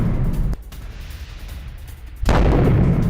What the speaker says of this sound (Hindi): तेल अवीव के पास बीर शेबा में आयरन डोम का एक्शन